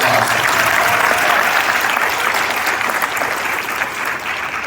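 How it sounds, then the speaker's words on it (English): Steady, sustained applause from a large audience at a nursing graduation ceremony, even and continuous throughout with no talk over it. "Let's give them a big round of applause."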